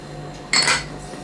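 A spoon scrapes and clinks briefly in a pot of milk mixed with cinnamon, cloves, lemon and orange zest, one close stir standing out against quiet kitchen background.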